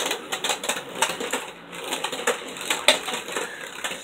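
A Beyblade spins around a stadium after launch, giving a steady, busy rattle of fast clicks and scrapes with sharper knocks now and then, running on its own without talk.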